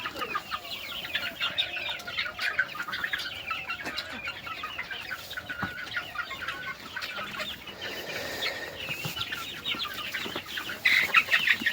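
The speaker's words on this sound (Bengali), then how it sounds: "দেখুন আমার মুরগিগুলা" A flock of growing chickens on a poultry farm clucks continuously, many birds overlapping at close range with no talk, louder near the end.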